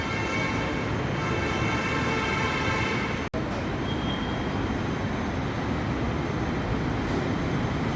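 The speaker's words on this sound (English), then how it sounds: "now this train is coming" Hyderabad metro train approaching a platform, a steady loud rumbling roar with high whine that keeps up for several seconds.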